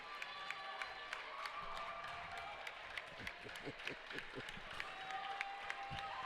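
A restless crowd at a high school girls' varsity basketball game murmurs faintly in a gym, with sharp scattered claps and clicks and a voice now and then.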